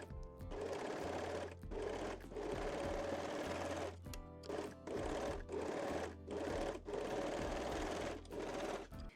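Sewing machine stitching the pad openings of a bra, close and steady, running in several bursts separated by short pauses, with no talk.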